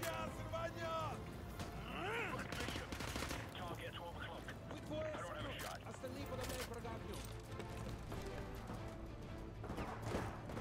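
Rapid automatic gunfire from an F2000 rifle in the Modern Warfare 2 campaign remaster, sharp repeated bursts over a busy, loud backdrop of game effects and music.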